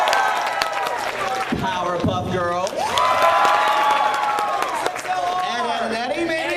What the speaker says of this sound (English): Clap for some of these classic shows.